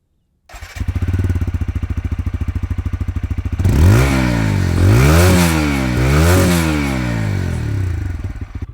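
A 2025 TVS Apache 160 4V motorcycle engine starts and settles into a fast, throbbing idle, then revs up and down repeatedly with a loud, raspy exhaust note.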